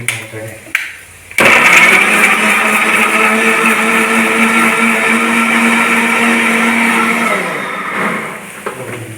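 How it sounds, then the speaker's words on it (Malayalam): A blender grinds cut tomatoes into puree for a chicken curry, a loud steady whirring motor running for about six seconds after a brief start, then winding down, with a voice talking faintly at the start. "എന്നിട്ട് നമ്മൾ ഇതിനൊന്ന് അരച്ച് ഇതിൽ പ്യൂരി എടുക്കും കേട്ടോ"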